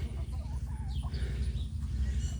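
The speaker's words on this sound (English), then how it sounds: "rooster there" A farmyard rooster clucks and calls in short, moderately distant bursts over a low, steady background rumble.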